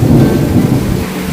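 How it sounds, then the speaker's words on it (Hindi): Heavy rain pours down steadily in a dense, loud hiss, with a deep rumble underneath like thunder. "बारिश कितनी प्यारी हो रही है।"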